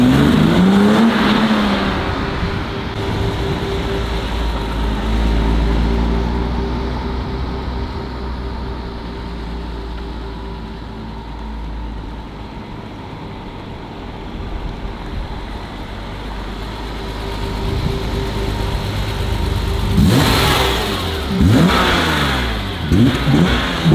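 A 1990s six-cylinder car, a BMW E34 M5 or Mercedes C36 AMG, drives a loop nearby with a steady engine drone that fades slightly and then swells back up as it revs and accelerates past.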